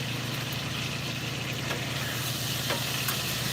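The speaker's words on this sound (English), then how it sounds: "let's give this another stir" Sausage, peppers and onions sizzle steadily in a hot frying pan while being stirred, a constant close crackle with a low hum underneath and no talking.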